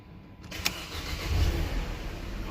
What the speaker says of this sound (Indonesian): ini tinggal kita masukin kuncinya di sini dan kita nyalakan aja yuk langsung